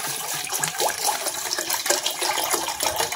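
Water poured into a pot to be heated on the stove, a continuous close splashing and gurgling stream with fluctuating loudness, no voices over it.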